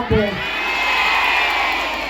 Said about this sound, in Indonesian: Sekali lagi tepuk tangan kangge panitia